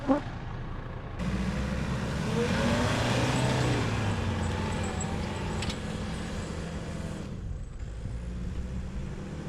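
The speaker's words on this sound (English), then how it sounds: "I'll drive your car out." A car pulls away with a steady engine drone and road rumble that swells, holds, then fades over several seconds, with a brief thump at the start and no talking.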